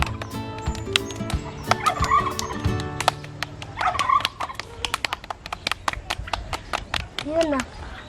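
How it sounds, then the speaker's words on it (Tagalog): Farm birds calling together, with turkey gobbles alongside chicken and duck sounds, in repeated bursts under a steady background of talk and sharp claps or knocks. "The duck and chicken and turkey is mixed together."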